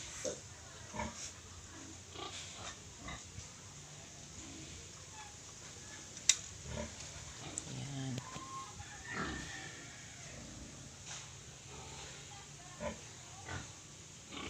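A native mother sow sleeps in a pen near her grown piglets, giving soft, low grunts at irregular intervals, close by but faint, with one brief sharp noise partway through and quiet ambient farm sounds around them.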